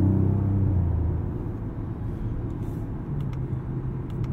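A 2020 Maserati Quattroporte S accelerates with a deep, moderately loud engine rumble that fades slightly as it settles, with faint clicks above the low drone.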